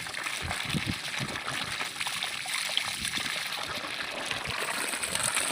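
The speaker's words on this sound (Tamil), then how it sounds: "இது பாருங்க, ஒன்றே வேலைக்கு தண்ணி எடுத்துட்டு இருக்கோம்." Water from a 1.5HP solar-powered borewell pump, drawn from a 500-foot bore on a one-acre farm, pours and splashes in a steady, moderately loud rush, uninterrupted and without talk.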